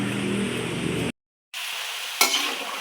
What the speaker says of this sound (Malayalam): അരിഞ്ഞത് നമുക്ക് വെണ്ണയിലോട്ട് ഇട്ട് കൊടുത്തിട്ട് ഈ ഒരു പരുവത്തിൽ വറുത്തെടുക്കാം